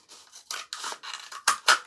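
Scissors cut lengthways along a cardboard toilet roll tube in a short series of crisp snipping and rasping strokes, close and alone, with the last two cuts the loudest.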